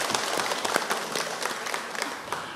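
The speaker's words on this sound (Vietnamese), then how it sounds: "chúng ta mừng cho sơ, cũng mừng cho gia đình và cho giáo họ một tràng pháo tay" A church congregation at a thanksgiving Mass for a nun's perpetual vows breaks into warm, continuous applause. Many hands clap together in a reverberant hall, steady and fairly loud throughout.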